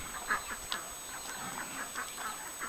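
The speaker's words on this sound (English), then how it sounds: "Little chickens." Small chickens cluck softly with scattered short, high chirps and clucks in an outdoor setting, faint and close, with no speech.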